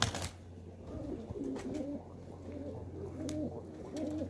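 Pigeon chicks call in soft, repeated cooing bursts close by, alone over a low steady hum.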